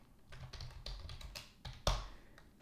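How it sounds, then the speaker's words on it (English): Text typed on a computer keyboard at a desk, a series of close, crisp key taps in quick irregular bursts with one louder keystroke near the end, no talking. "we're gonna type in some text"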